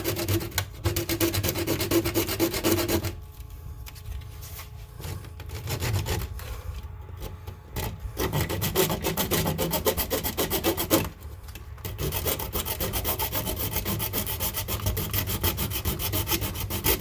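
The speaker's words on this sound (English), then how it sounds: "This blade cuts to this plastic really fast" A hand saw blade rasps rapidly through plastic inside a Mazda Miata, a close, gritty back-and-forth sawing that stops briefly twice and then resumes, with no talking.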